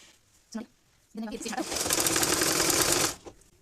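A sewing machine stitches fabric for a 6-12 month baby tikli hat, starting after a brief voice and a short knock, then running in one steady, close burst of about two seconds before stopping.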